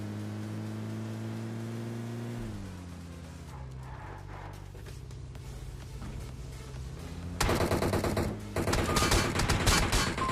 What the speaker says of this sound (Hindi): पीछे से फायरिंग होने लगती है